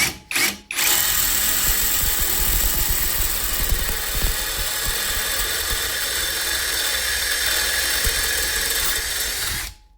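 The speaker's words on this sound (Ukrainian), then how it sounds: "просто тупе сверло. Я не знаю, як вам показати, але воно не сверлить взагалі бляха." An electric drill with a dull 4 mm bit whines steadily at high speed for nearly ten seconds after a couple of brief starts, loud and close, with no talk.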